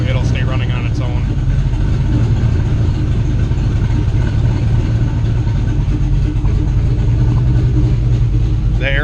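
An LS-swapped Fox Body Mustang idles steadily on its own, a loud, continuous low engine rumble running unbroken through the whole stretch, with the idle holding even throughout.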